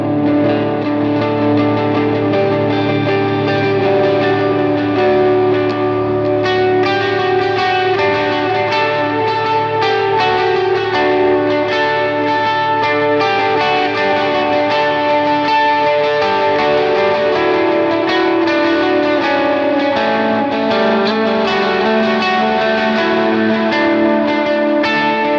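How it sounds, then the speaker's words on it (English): Distorted electric guitar through a Cusack Rebound analog delay pedal, playing sustained chords and melodic lines with lush repeating echoes trailing behind each note, loud and continuous with no talking. "the GOAT of analog delay tones"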